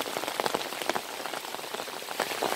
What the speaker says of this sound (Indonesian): terkena air hujan karena cukup deras ini ya